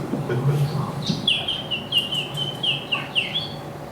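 A person whistles imitation bird songs at a live cooking event, giving a series of bright chirps and trills close up over crowd murmur.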